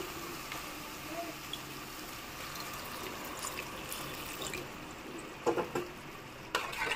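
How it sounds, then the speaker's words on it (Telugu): Water is poured into a pot of cooking mutton curry, a soft, quiet splash and trickle with a few light clinks near the end. "ఇప్పుడు ఈ మటన్ ముక్క ములిగేలా వాటర్ వేసుకోవాలండి"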